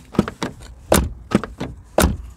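A Fiat Linea car door is shut several times in a row, each close thud sharp and solid, with small latch and handling clicks between them.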